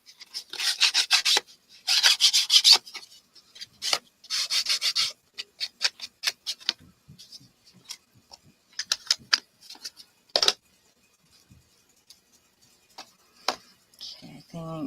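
Paper edges of a Halloween junk journal scuffed in short raspy bursts, a few loud rubbing strokes up close followed by lighter scattered scrapes and taps, with a brief voice near the end.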